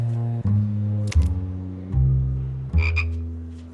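Repeated low croaks from a frog, a cartoon character turned into one, come as four drawn-out, pulsing calls, loud and close, with brief squeaky bits between them and no talking.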